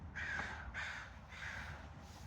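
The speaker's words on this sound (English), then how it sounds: "The crows are out and everything." Crows cawing outdoors, three drawn-out harsh caws in a steady rhythm, moderately distant and fairly quiet, with no talking over them.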